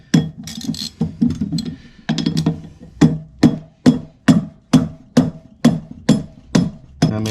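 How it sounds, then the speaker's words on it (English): A rubber mallet knocks at motorcycle sprocket bolts on a Hawk 250 DLX, first in quick irregular clusters, then settling into a steady series of evenly spaced dull thuds, close and loud. "good old-fashioned rubber mallet loosens them up"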